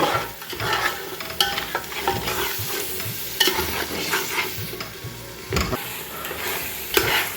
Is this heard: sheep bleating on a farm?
no